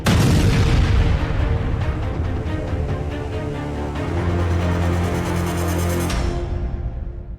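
A massive blast at a Russian weapons depot in Krasnodar where stored gunpowder and bombs caught fire, heard as a loud, sustained booming roar with layered rumbling and crackling bursts that fill the whole stretch before cutting off.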